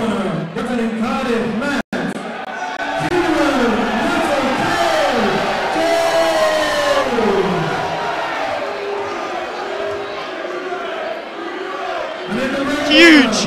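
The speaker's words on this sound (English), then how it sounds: "Huge applause for Kieran James" A fight-night crowd cheers and applauds a boxer named Kieran James after his first bout, a loud continuous roar with whoops, heard under an announcer's talk.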